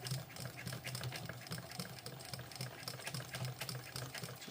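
Sewing machine stitching over the original stitching along the binding of a Pebble Sling Bag, a steady fast mechanical whir with a regular needle rhythm running throughout, close and alone with no talking.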